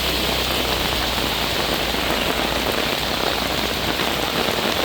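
Heavy continuous monsoon rain in the Western Ghats region of Karnataka, a loud, dense and unbroken roar of rain striking surfaces, uniform throughout with no voices.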